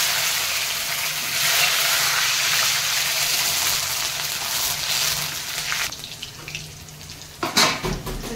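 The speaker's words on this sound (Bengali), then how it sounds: "প্রথমে শুকনো লঙ্কা, জিরে মরিচ ফোড়ন দিলাম, তার সঙ্গে এই আম পাতাটা ফোড়ন দিলাম" Dried red chillies, cumin, peppercorns and mango leaves sizzle in hot oil as a tempering for a katla fish curry with ridge gourd, a steady loud frying crackle, then brief pan clatter and stirring near the end.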